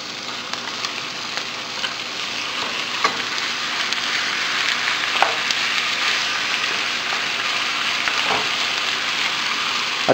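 Pork frying in a pan with softened onions for kaldereta: a steady, close sizzle hisses without a break, with a few faint clinks and pops of stirring and no voices.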